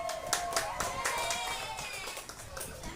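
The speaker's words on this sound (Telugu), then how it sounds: "క్లాప్స్." A group of hands clapping in a classroom activity: a quick run of bright claps, some overlapping, close and fairly loud, with a faint voice beneath.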